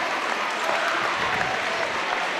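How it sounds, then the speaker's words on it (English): A basketball crowd at a Morgantown vs University game roars and claps as an injured player is carried off, a loud, continuous wash of applause and cheering. "Agnew's going to be carried off by his teammates to a roar of the crowd"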